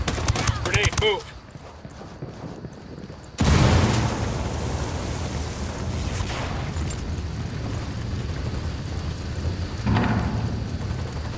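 A grenade explosion and sustained automatic gunfire from the tactical shooter Ghost Recon Wildlands, with a sharp blast followed by a dense, loud barrage of shots over a bed of game noise.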